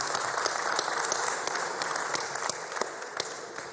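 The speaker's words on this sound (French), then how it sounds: "merci d'applaudir encore très fort pour le directeur marketing" Audience at a televised MTN 20th-anniversary celebration applauding the marketing director, a continuous mass of clapping with sharp individual claps popping out, sustained at a fairly even level.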